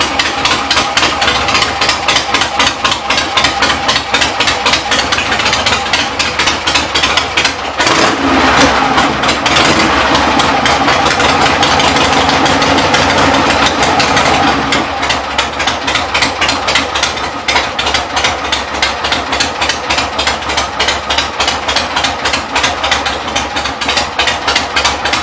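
A 1975 Harley-Davidson Ironhead Sportster with a carburetor and enrichener, not fully warmed up, idles loudly and close with a rapid, lumpy rhythmic thump, swelling into a rev partway through before settling back to idle.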